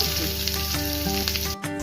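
Dense, continuous sizzling of onions frying in oil with dried red chillies and bay leaves, loud and close, with a brief drop near the end.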